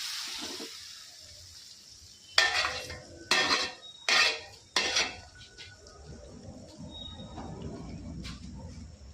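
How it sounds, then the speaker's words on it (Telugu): A spoon clanks sharply against a pan four times in quick succession while a chili-and-shallot tempering is stirred with water, followed by quieter faint bubbling and scraping, no talking. "ఇప్పుడు ఈ పోపు అంతా కూడా మనం నీళ్ళు వేసి కలిపేసుకోవాలి."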